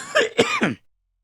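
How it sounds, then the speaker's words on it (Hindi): One person's short, harsh throat clearing run into a couple of quick coughs, close and fairly loud, over in under a second and followed by silence. "खांसी बहुत तेज है मेरे को।"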